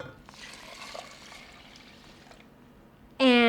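Water poured into a pot of sweet rice, a steady close splashing trickle lasting a few seconds before it tapers off, followed by a brief bright tonal sound at the end.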